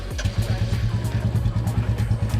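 A Royal Enfield Classic 350 motorcycle engine idles close by with a steady, rapid thumping beat and a light mechanical clatter.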